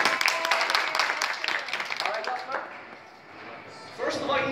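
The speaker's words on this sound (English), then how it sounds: "Jasper, give him a warm applause for Jasper." At a kung fu martial arts workshop, an audience gives a volunteer a short burst of clapping that thins out, followed by a voice speaking.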